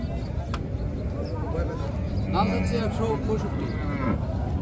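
A cow lows amid a noisy outdoor crowd at a cattle market, with people talking and haggling over a constant low rumble of chatter and movement.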